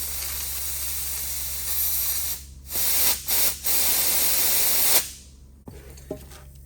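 Compressed air forced through a brake line filled with brake parts cleaner on a 1964 Harley-Davidson Panhead DuoGlide, a long loud spraying hiss that sputters and cuts out briefly several times before fading to quiet.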